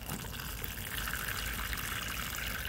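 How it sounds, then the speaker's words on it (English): Water poured from above into a small cup of well-draining potting soil, a steady splashing, gushing pour heard close and fairly quiet, with no talking. "Just add water, all right?"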